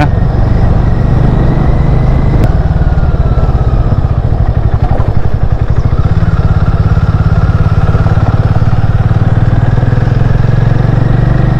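A Harley X440 motorcycle rides over a potholed, rain-soaked road, its engine giving a loud, steady, close-up drone with some clatter from the rough surface throughout.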